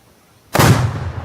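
A rifle shot detonates a Tannerite explosive target outdoors in one loud, sudden boom that rolls off into a rumbling decay, after a quiet lead-in.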